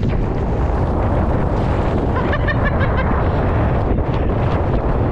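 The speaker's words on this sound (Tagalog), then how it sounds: "Lakas ng sipon ng hangin." Strong wind roars steadily into the microphone, a loud broadband rush with gusty buffeting throughout.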